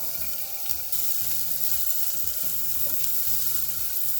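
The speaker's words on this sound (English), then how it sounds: "To this pot, I'm going to add some olive oil and now add in our onions and our red peppers." Onions and red peppers sizzle steadily in hot olive oil in a pot, a continuous close frying hiss with faint stirring clatter and no voices.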